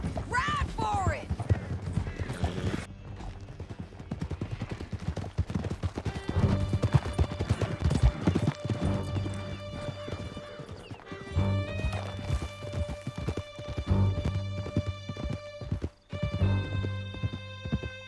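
Horse hooves clip-clopping at a gallop in the Red Dead Redemption 2 video game, steady and fairly close, under a swelling orchestral score with a brief whinny near the start.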